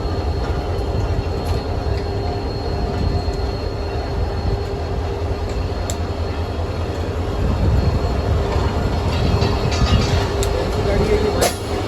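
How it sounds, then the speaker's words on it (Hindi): A 151UP Shah Latif passenger train rolls along with a steady, loud rumble of wheels and carriages, continuous for the whole stretch, with faint squeals and rattles on top. "कब तक विसल होता है और हमारी ट्रेन रवाना होती है"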